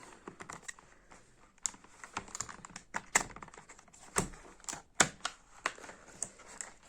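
Someone opening the retail box of a Piranha powerbank: a close, uneven series of sharp plastic and cardboard clicks and snaps with light rustling, no one talking.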